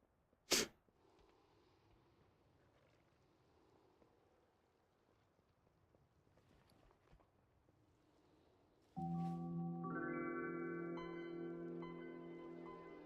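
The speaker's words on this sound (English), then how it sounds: "it feels like I have to sneeze" A single sharp sneeze bursts out near the start over a quiet room, followed later by steady layered tones of music or sound effects.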